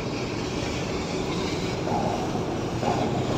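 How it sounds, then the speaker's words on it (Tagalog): Pilot boat propeller churning at Rotterdam, heard as a steady, broad rumbling roar of machinery and rushing water that stays constant and fairly loud throughout, with no talking. "Lakas ng propeller nila"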